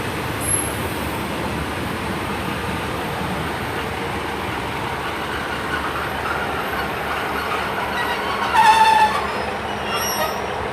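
Class 150 and Class 143 Pacer diesel units at Severn Tunnel Junction station produce a steady low idling rumble under ambient noise, with a brief louder hiss and a short tone near the end.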